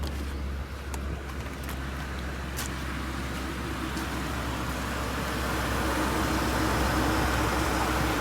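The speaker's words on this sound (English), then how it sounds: "I'll turn that fan off so you can hear the motor run." A 2012 Ford F-450 two-wheel-drive mechanics truck with a V10 engine idles outdoors in a steady, even rumble, while faint outdoor background noise sits around it and no one speaks.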